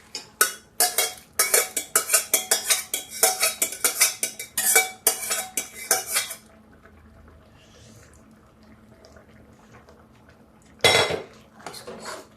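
Cooked dal with fresh drumstick pods is stirred in a metal pot, making quick, loud clanks of a spoon against the pot for about six seconds. A quiet stretch follows, then one more short burst of clattering.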